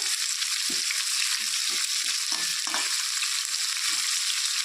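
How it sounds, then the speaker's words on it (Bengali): Catla fish heads fry in oil in a wok, a loud, continuous close-up sizzle and hiss with faint scrapes of stirring underneath, no voices. "তো মাছের মাথাগুলো দিয়ে দিচ্ছি, সবগুলো দিইনি, অর্ধেক অর্ধেক করে ভেজে নিচ্ছি।"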